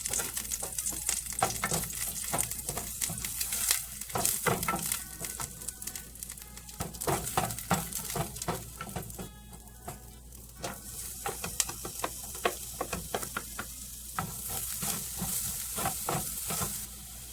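Onion and garlic sautéing in a little oil rendered from chicken skin, a steady close sizzle broken by repeated scraping stirs of a utensil against the pan.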